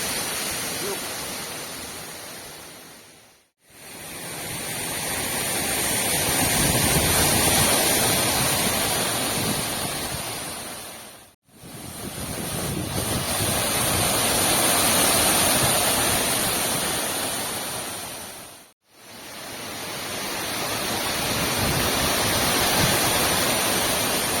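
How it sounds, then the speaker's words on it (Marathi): A waterfall roars in a steady, dense rush of water, loud and close, broken by three brief moments of silence. "इकडे आणखी एक धबधबा आहे"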